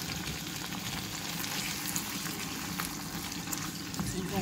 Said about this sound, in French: Je vais donc ajouter mes champignons.